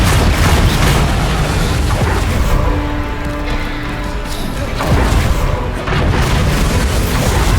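In Hogwarts Legacy, the Confringo blasting spell goes off in a series of loud, booming explosions with heavy crashing impacts. Two big blasts stand out over constant dense battle noise.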